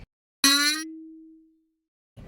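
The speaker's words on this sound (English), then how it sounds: "Our number dinged up on this, like, I don't know, this little display that shows the number that they're calling" A number-display chime in a doctor's office waiting room in Kuwait: one bright, clear ding rings out and fades over about a second in a quiet room, and a voice begins briefly at the end.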